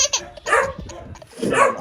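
A dog gives two short, strained barks with a whiny, yipping edge, close by in a home setting, separated by a brief pause and mixed with some vocal noise.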